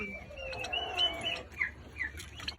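Turkeys and hens cluck and call around a homestead yard, several birds overlapping in bursts at moderate distance, with a few sharper calls standing out.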